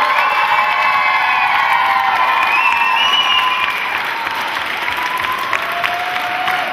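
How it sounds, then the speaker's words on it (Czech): A crowd at a children's summer camp applauds loudly and steadily, with children shouting and whooping on top, the cheering thinning slightly toward the end. "Takže obrovský potlesk pro Dana Halíře!"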